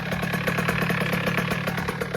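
A 1986 Most motorcycle engine idles with a steady, rapid clattering pulse and a hissing air leak at the exhaust flange, close and loud, with no talk.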